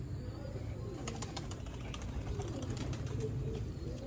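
Sialkoti pigeons, a branded breed kept by a fancier, cooing softly at close range amid light chirps and faint background noise, with occasional low talk.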